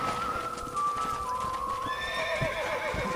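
Hooves clip-clop steadily as a horse lets out a long whinny that rises and falls, fairly close, in the video game Red Dead Redemption.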